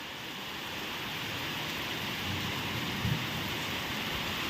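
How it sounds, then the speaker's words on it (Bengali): Heavy rain pours outdoors in strong wind, a steady wash of hissing noise heard from indoors at low level. A faint low rumble swells briefly toward the end. "এবারে যেরকম ভাবে জোরে বৃষ্টি পড়ছে সেরকম হাওয়াও চলছে"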